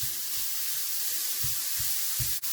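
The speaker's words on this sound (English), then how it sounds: "I'm going to put that sausage in there. That's a ½ pound of sausage. And we're going to cook this sausage down." Half a pound of sausage sizzles in a very hot Ninja Neverstick skillet with very little oil, making a constant close hiss over soft, regular low thuds, with no talking.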